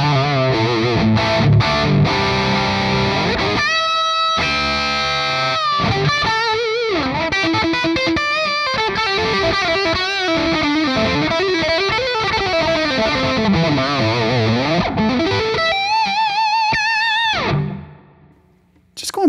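Loud distorted electric guitar plays sustained chords and bending lead lines through a vertical 2x12 speaker cabinet, then cuts off abruptly near the end.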